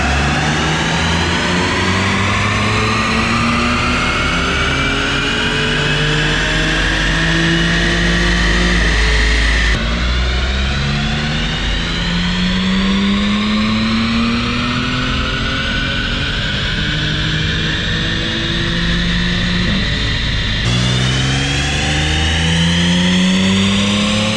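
An Audi B8 S4 engine, fitted with an aftermarket air intake, revs loudly on a Mustang chassis dyno, with a rising pitch through a sustained wide-open pull that drops and climbs again in long repeated sweeps.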